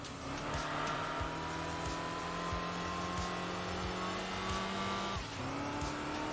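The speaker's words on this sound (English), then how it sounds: "Oh, and the upgraded exhaust sound as well." A Saab with an upgraded exhaust in the racing game Enthusia Professional Racing drones loudly and steadily with a rising engine note, and brief clicks mark gear changes.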